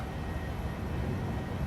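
Boeing 737-800 (Norwegian) climbing out after takeoff in Microsoft Flight Simulator, a steady broadband jet engine roar with dense low rumble, loud and continuous throughout without any break.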